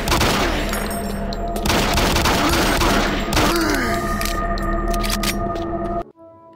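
Continuous rapid gunfire from a weapon in the video game Doom 3, a loud sustained fusillade with heavy thuds and metallic tails that cuts off abruptly near the end.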